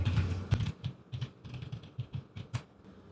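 Password keys tapped on a computer keyboard in an irregular run of close, crisp clicks, some sharper than others, with no voice.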